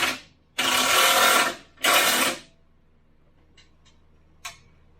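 An impact wrench tightening the bolts that fix a rebuilt Ford F-350's bumper to the frame gives two loud, harsh buzzing bursts about a second each, followed by a few faint clicks and a short sharp tap in a quiet space.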